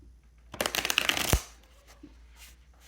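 A deck of oracle cards being shuffled close up, a dense burst of riffling and flicking lasting under a second, ending in a soft tap, then quiet room tone.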